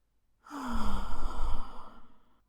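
A single long, deep breath, drawn in and slowly let out as a heavy sigh, close to the microphone and alone after a moment of silence.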